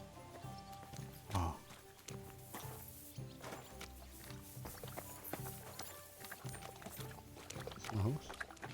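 Horse hooves in Kingdom Come Deliverance 2, a few heavy thuds of hoofbeats over a game soundscape with music-like tones, while someone speaks briefly.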